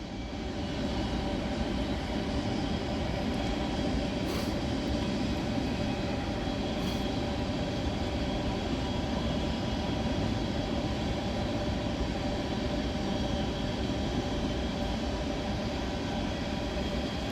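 A Norfolk Southern freight train rolls steadily over a bridge above a running river in Elyria, Ohio, a continuous, fairly quiet rumble and rail hum heard from a distance with no voices.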